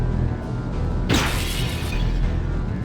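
In a shooter video game, glass is punched out: a sudden sharp shattering crash mid-clip over a steady game ambience, followed by a brief tinkling tail.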